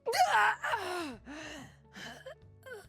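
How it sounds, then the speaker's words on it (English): A League of Legends character's death noise plays as a sequence of choked gasps and groans, breathy and strained, coming in several short bursts up close and alone. "It's kind of like death noise. Gasping for air."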